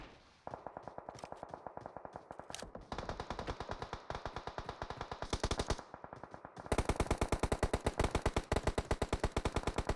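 Rapid automatic gunfire in a competitive league video game match: dense, continuous bursts of loud shots that grow heavier and faster toward the end, with no talking.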